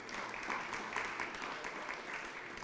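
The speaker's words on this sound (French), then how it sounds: "Je pense qu'on peut les applaudir." An audience at a talk on multi-energy charging stations applauds the three speakers, a soft, dense patter of many hands heard at a distance for a few seconds.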